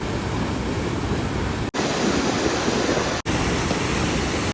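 A swollen Hiren river in the Gir forest rushes loudly and steadily, a dense continuous roar of churning water heard close with no voices, briefly cut twice.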